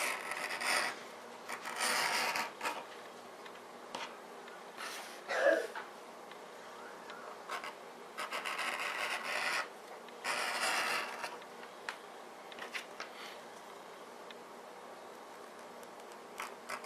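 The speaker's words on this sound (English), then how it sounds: "we are going to bevel our edges." A tool rasps along the edge of leather while beveling a ferro rod loop, in short rubbing bursts of a second or two with pauses between, close and moderately loud.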